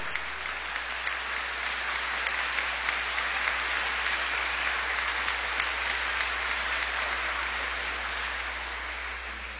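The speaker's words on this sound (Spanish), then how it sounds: "Que se siente el aplauso." A congregation applauds in a church during a Chrism Mass, a dense, even wash of many hands clapping that holds steady for several seconds and then tapers slightly, heard from within the room with no voices.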